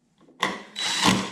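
A power driver sends screws back in to reinstall the cover on a new snowblower, giving a short, close whirring burst and then a longer one.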